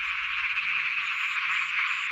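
A frog in a water basin croaks in a continuous, loud, close trill with no pauses, its buzzing call steady throughout.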